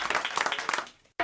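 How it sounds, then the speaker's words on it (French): Studio audience clapping on a radio show, a short lively burst of applause lasting about a second, then a quick gap before it resumes. "on vous applaudit"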